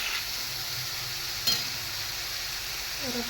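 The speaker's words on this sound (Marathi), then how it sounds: "मी कांदा आणि टोमॅटो ते भाजून घेत आहे, जो की लाल होईपर्यंत आपल्याला भाजायचा आहे" Onion and tomato fry in a pan with a close, constant sizzle, one short clinking scrape near the middle and a faint tonal squeak at the end, with no talking.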